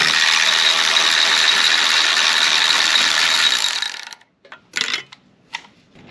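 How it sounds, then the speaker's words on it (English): A ratchet with a deep socket removes a 10mm nut on a 2005-08 Audi A4 B7 2.0 Turbo FSI, with a loud, fast, steady ratcheting buzz for about four seconds, then a few short bursts of clicking up close. "I'm going to use a deep socket to take that one out."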